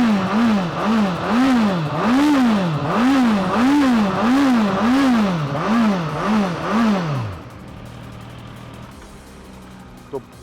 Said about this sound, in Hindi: बेहद ही माचो मस्कुलर साउंड करने वाला इसका एग्जॉस्ट नोट है